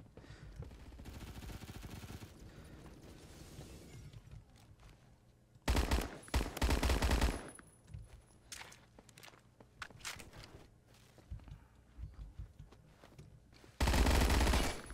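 PPSh-41 submachine gun firing in the Roblox game Phantom Forces: loud rapid-fire bursts, two long ones and several short ones, between quieter stretches of footsteps and movement.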